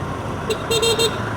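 Busy road noise near a petrol queue in Batticaloa, Sri Lanka, with a car horn tooting once, then a few more quick honks in a row, over steady engine rumble.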